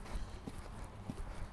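Horse hooves clip-clopping during a riding lesson, a few soft, spaced hoofbeats over steady low background noise with no talking.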